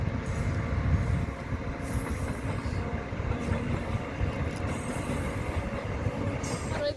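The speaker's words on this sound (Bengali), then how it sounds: "পাশে দেখো ট্রেন লাইন আছে বাড়ি থেকে মালগাড়ি যাচ্ছে" Freight goods train passing along a railway line beside a house, a continuous loud rumble of wagons with rattling wheels and brief metallic squeals, no talking.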